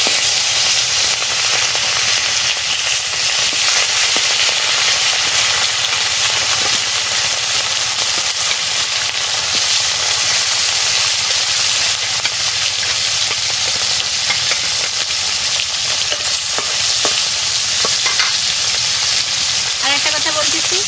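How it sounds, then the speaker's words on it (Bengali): Fish fries in hot oil in a home kitchen, a loud, continuous bright sizzle and crackle with occasional spits that holds steady for the whole stretch. "তেল গরম হয়ে গেছে, আমি মাছ ভাজা বসাই দিচ্ছি।"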